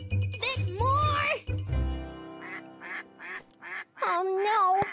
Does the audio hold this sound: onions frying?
no